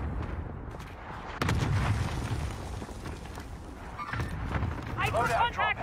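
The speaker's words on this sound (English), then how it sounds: "Cluster strike is active" Cluster strike explosions rumble and crack in a Call of Duty match, a dense barrage of booms and bursts with game voices and sharper pops layered over the din.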